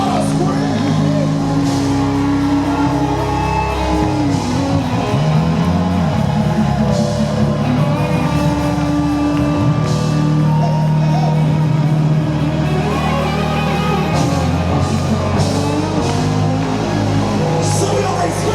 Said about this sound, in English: Come on, somebody ought to scream.